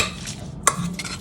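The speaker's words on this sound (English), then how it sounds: "And then I'm gonna mix everything together." Ingredients including barbecue sauce stirred together in a bowl for Cajun BBQ chicken, a soft scraping stir with one sharp utensil knock partway through, close and fairly quiet, no talking.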